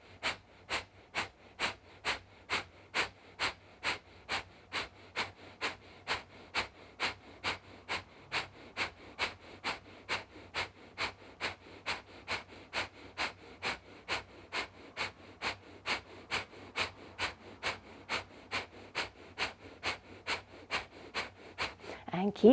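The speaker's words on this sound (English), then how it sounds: "really try to force that breath out through the nose" Breath of Fire breathing exercise: a long, even series of forceful, rapid exhalations through the nose, roughly two per second, close and steady for the whole stretch.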